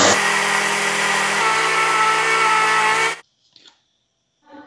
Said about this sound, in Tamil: இப்போ இது மிக்ஸி ஜாரில் போட்டு அரைச்சிக்கலாம்